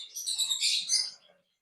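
Two dilute Java sparrow chicks in an aviary cage make bright, thin chirps in quick overlapping bursts, close by and fairly clear, then fall quiet.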